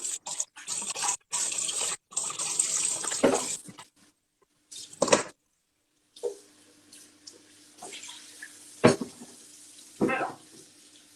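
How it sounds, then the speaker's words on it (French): A blender rinsed under a running kitchen tap, with bursts of gushing water starting and stopping several times, close by, separated by short pauses and faint clatter. "moi j'ai rincé le blender parce qu'on va en avoir besoin pour après"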